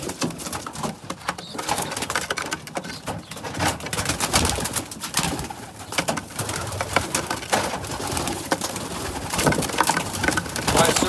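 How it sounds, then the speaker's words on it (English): A racing pigeon coos at its perch in a loft, soft repeated calls under steady rustling, wing shuffles and handling noise close by. "The bird wants to sit right over top the perch and poop on my thing."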